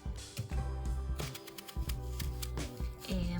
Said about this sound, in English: So just cut all the apples up